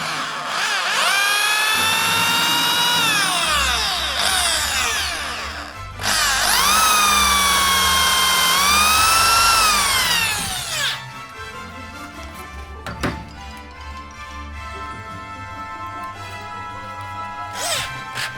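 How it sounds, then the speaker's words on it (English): A power drill whines loudly in two long bursts, its pitch rising and falling under load, then quieter running with clicks and a sharp knock. "use a sharp drill bit with a decent point on it"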